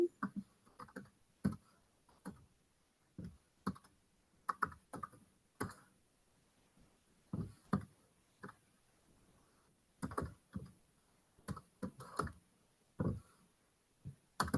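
Keys tapped on a calculator keypad while entering a calculus expression: quiet, sparse clusters of small plastic clicks in irregular bursts, close and alone with no talking.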